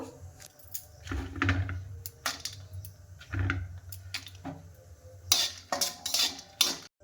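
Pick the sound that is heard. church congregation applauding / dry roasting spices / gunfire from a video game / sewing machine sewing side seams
dry roasting spices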